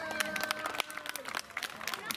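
An audience claps in applause at the Efteling Negen Pleinen Festijn 2018 on the Ton Van Der Ven Plein, with dense, steady clapping over a tonal musical background throughout the short moment.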